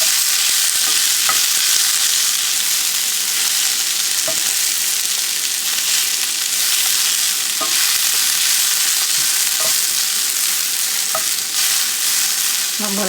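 Cauliflower rice is stirred and dry-cooked in a pan, giving a constant loud sizzling hiss broken by scattered scraping and clicking of the spoon against the pan.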